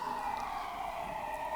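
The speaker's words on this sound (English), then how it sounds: "as the sirens go by" A siren wails steadily in the distance, a sustained tone with a low rumble of traffic beneath it.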